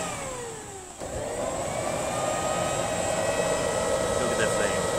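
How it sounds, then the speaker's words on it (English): An air blower on a cheap home-built foundry furnace roars up to speed, a steady loud whine with rising tones, and a voice talks briefly over it. "the air blower is in position"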